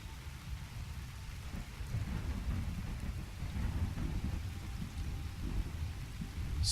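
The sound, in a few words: rain and thunder in the video game Skyrim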